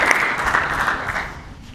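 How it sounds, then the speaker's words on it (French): Audience applause fills a football awards ceremony for a regional National 3 league in Normandy, a steady broad clapping wash of moderate loudness that tapers slightly toward the end. "Vous pouvez l'applaudir."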